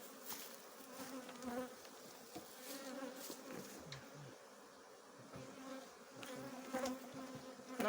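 Honey bees buzzing around their hives during package colony work, a dense, steady hum with individual bees droning close by and passing, with no one speaking.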